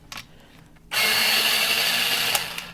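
A colored pencil being sharpened in what sounds like an electric sharpener: a few faint knocks, then a loud, steady, close grinding whir that runs for nearly two seconds without pause.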